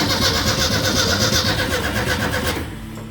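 A worn starter cranking the engine of a 1962 Ford F100 truck that has sat for years: loud, close, rapid rhythmic churning that cuts off abruptly near the end.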